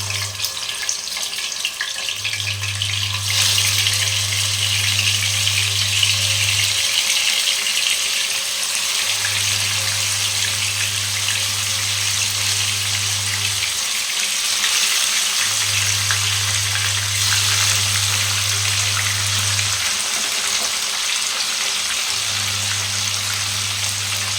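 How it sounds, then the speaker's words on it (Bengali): Rohu fish frying in oil in a pan makes a loud, continuous sizzle and crackle, with a low droning hum cycling on and off in the background and no talking. "মাছটা আমি ভেজে নেব, দুদিকে লাল লাল করে ভেজে নেব।"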